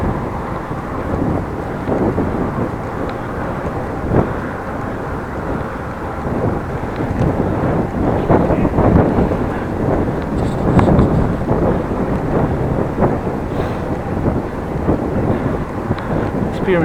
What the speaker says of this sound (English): Experiencing some headwind now. Not a lot, but there is headwind.